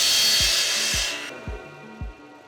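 A power tool whines steadily while cutting a piece of 2x4 wood, then stops, leaving four evenly spaced low thumps that sound close by.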